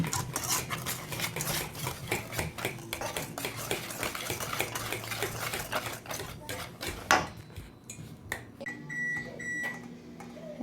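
A utensil scrapes and clatters against a bowl as dry banana bread ingredients are stirred, giving rapid, irregular taps that thin out toward the end, close and fairly loud.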